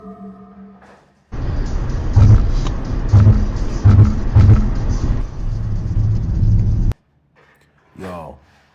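A car drives down a road at night, giving a loud, steady rumble that holds for several seconds and then cuts off abruptly, with a voice heard briefly before and after.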